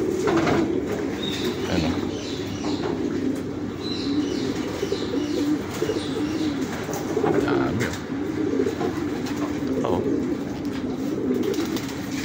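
Many pigeons in an advanced hobbyist's breeder loft coo in a dense, constant chorus, with occasional wing flaps and chirps, while someone speaks briefly nearby.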